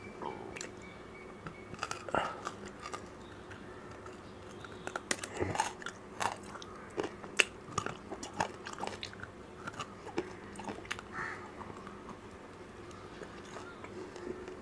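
Ice cream lollipop with bubble gum being bitten and chewed close to the mic, with soft crunches and wet chewing clicks scattered across a quiet background.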